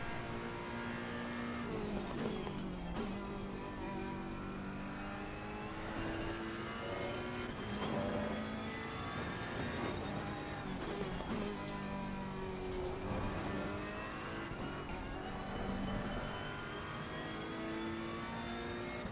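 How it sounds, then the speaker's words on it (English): Race car on cold tires at Snetterton in a racing video game, its engine droning steadily with pitch rising and falling as it revs through corners at a moderate, even level, with no speech. "as I'm taking it easy, I can just hear the car sliding."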